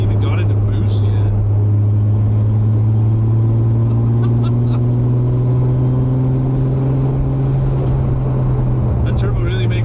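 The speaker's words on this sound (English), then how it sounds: "That turbo really makes noise, dude." A Toyota Supra's turbo engine hums in a steady, loud drone heard from inside the car, with a rising turbo whistle, while people chat over it.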